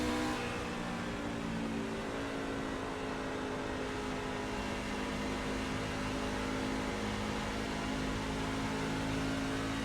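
A NIS racing truck in the video game iRacing runs at Homestead with a steady, droning engine whine that holds at a constant pitch and level for ten seconds, with no talking.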